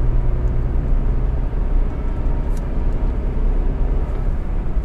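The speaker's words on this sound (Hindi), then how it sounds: "थर्ड गियर में शिफ्ट कर रहा, मैंने फुल पंजा लगभग दबाया है।" A 2021 Datsun Redi-Go 800cc car engine strains under near-full throttle while accelerating in third gear, giving a steady, loud drone with road noise throughout.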